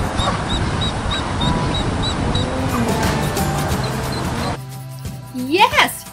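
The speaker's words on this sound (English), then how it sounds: "Yes, you hear one duck." Real ducks, including a baby duck, quacking near the end in a short burst of rising calls after a stretch of busy background sound with other birds and voices.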